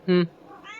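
A person imitates a cat with a single loud, high-pitched "meow," followed by a quieter, softer meow-like sound.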